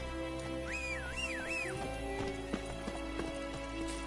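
Horse hooves clip-clop in The Witcher 3 video game, a rhythmic run of thuds under a whistle and a low ambient hum, moderately close.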